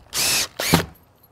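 A power drill drives screws into a poker table: two short, loud whirring bursts with a brief pause between, the second ending as the screw seats, with no talking.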